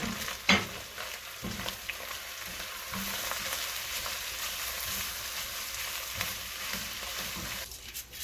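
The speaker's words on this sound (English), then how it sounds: "the reason why you want that sear on that beef is for flavor" Ground beef searing in a hot pan for Bolognese gives a continuous close sizzle, with a few louder stirring knocks and scrapes, and no voices.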